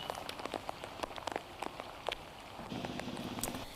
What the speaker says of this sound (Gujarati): 3 દિવસથી વરસાદ પડી રહ્યો છે